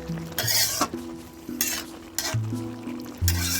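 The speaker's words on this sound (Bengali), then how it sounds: "এবার ঢাকনাটা তুলে আবার একটু নেড়ে চেড়ে নিলাম" Tangra fish curry masala is stirred in a metal pan after the lid comes off. Loud scraping bursts of a spoon against the pan repeat at a fairly regular pace, with clinks and a soft sizzle underneath. No one speaks.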